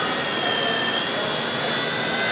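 A continuous, loud roar of a helicopter engine with a steady high whine, unbroken throughout.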